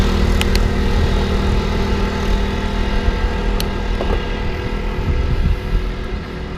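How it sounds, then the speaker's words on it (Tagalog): Motorcycles with loud aftermarket exhausts passing on a road from Pateros toward Wawa Dam, a steady close engine rumble with a couple of sharper passes and no talk. "Tapos malalakas yung tambutso."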